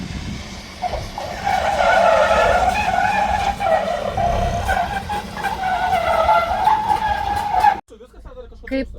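A Setra bus skids and slides across a slippery surface with a long, wavering tire squeal that rises and falls for several seconds before cutting off abruptly, a voice briefly audible afterward.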